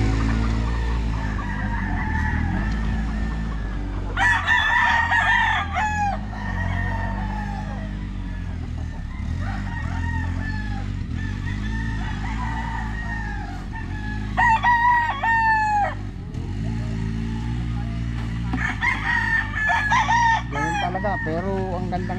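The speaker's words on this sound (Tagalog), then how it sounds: "Pero ang gandang manok nito." Gamefowl roosters crow repeatedly at a game farm, several loud nearby cock-a-doodle-doo calls rising over steady farmyard clucking and background chatter of birds, with bursts spaced every few seconds.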